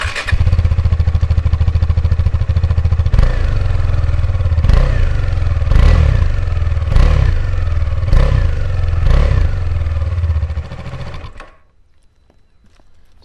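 KTM motorcycle exhaust running loud and close for about eleven seconds, a steady deep drone broken by six or seven sharp throttle blips, then cut off to near silence.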